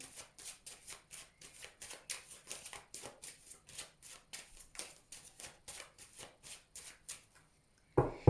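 Tarot cards being cut and shuffled by hand, a rapid run of crisp riffling flicks repeating about three times a second, close and fairly soft, ending in a short pause and a louder final tap.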